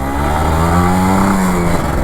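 A Kawasaki Ninja RR 150 motorcycle engine revs loudly and steadily up close, its harmonic tone rising slightly and holding before easing back, with no voices over it.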